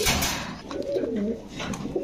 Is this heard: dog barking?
no